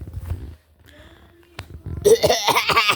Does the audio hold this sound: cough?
yes